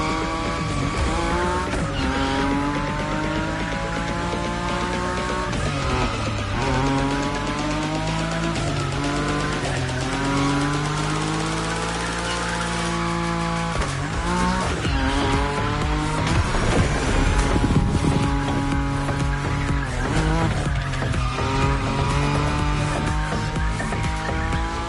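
A Nissan Nismo in a racing video game slides sideways at high speed. Its engine drones loudly and steadily while the tires squeal and skid almost without pause. Music or effects sit underneath, and no one talks.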